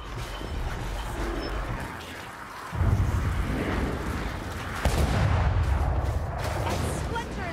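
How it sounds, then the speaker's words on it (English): Heavy booming cannon fire in the Warhammer Vermintide video game, with two deep blasts rumbling loud over a noisy battle soundscape. "Ready the cannon."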